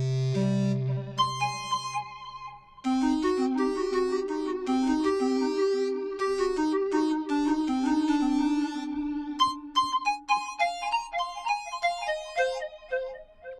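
An echo lead synth preset from Native Instruments 40's Very Own Keys plays a melodic line of bright, repeating notes with trailing echoes, a low sustained tone at the start and staccato notes toward the end, with no voices.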